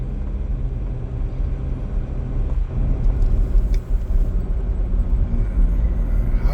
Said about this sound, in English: How does it drive? The Kia Sorento.